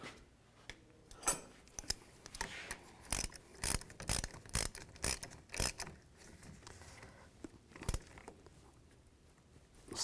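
A ratchet snugs down a nut on the positive battery terminal of a 2005-15 Nissan Xterra, producing soft, close bursts of metallic clicking with brief pauses between strokes.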